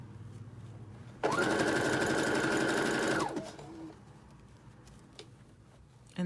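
Sewing machine zigzag stitching a plain t-shirt: one steady, loud whirring run of about two seconds that stops abruptly, followed by quiet room noise.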